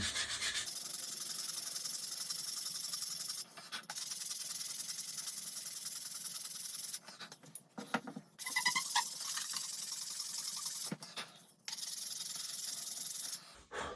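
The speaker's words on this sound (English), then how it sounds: "Sand this part down." Sanding a part of a Meister F4U Corsair model airplane by hand: continuous close, soft, hissing rubbing strokes with a few brief pauses and scattered light handling noises.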